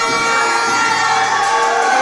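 Crowd noise from spectators at a wrestling event in the Houston Premier Arena, a dense, loud, steady roar of cheering.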